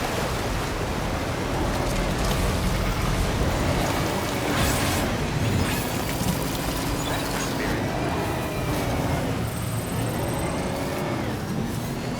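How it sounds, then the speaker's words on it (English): Steady rain pours in Death Stranding 2: On the Beach, a dense, unbroken hiss at constant loudness with faint tonal game sounds drifting through it. "Raindrops are falling on my head"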